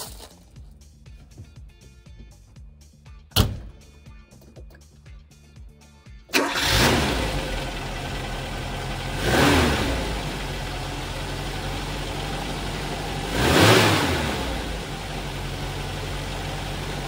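A cold 1985 Peugeot 505 engine cranks briefly and fires on the first try, then settles into a steady, fairly loud idle with a couple of swelling revs.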